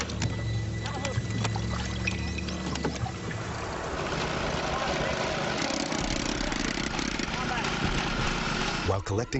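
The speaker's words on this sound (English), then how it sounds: "Intake on the compressor is sucking exhaust." An air compressor runs at a river dive site, a loud continuous engine drone mixed with rushing water and splashing, with someone talking over it.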